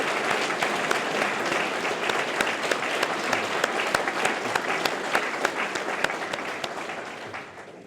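Ceremony guests applaud at a health clinic dedication, a full, even patter of many hands with some sharper individual claps standing out, fading off near the end.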